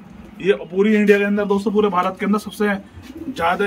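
Red Amritsari Jaldar pigeons coo at a bird sale, giving low, rolling calls close by. Someone talks over them almost without pause.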